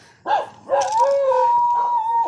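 A dog gives a sharp bark, then breaks into a long, wavering howl that holds steady before trailing off, close and fairly loud.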